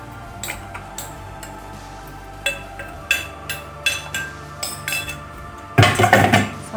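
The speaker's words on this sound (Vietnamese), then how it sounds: "Mình sẽ cho cái gừng vào chiếc nồi." Crushed ginger goes into a metal cooking pot on a stove, making a run of sharp metallic clinks and taps. A louder burst of clattering follows at the end.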